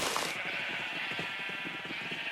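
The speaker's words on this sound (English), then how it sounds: "I should probably make at least a handful of light blue sheep." Sheep bleating in the video game Minecraft, several wavering bleats repeating steadily through the clip, close and fairly loud, with no talk over them.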